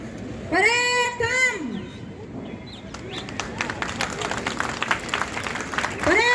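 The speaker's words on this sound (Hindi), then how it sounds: "जोरदार तालियां।" A crowd at a Republic Day police parade in Jhansi applauds in a busy, rhythmic patter after a voice speaks loudly over a public address, the clapping continuing under ambient noise.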